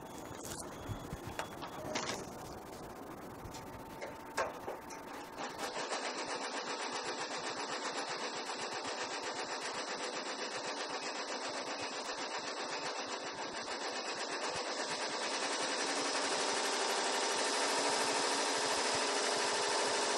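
An Avance embroidery machine stitches a design at about 800 to 850 stitches per minute, producing a steady, dense mechanical whirring and rapid needle clatter that starts after a few seconds of handling noise and runs continuously, close and fairly loud.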